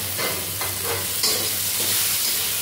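Onions sizzling in a pan for a pomfret fish curry, with steady frying noise and repeated scraping strokes of a spatula stirring them, close and without voices.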